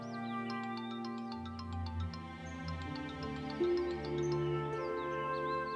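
A mobile phone ringtone plays alone, a bright repeating electronic melody of short chiming notes over a sustained tonal backing, steady and moderately loud throughout.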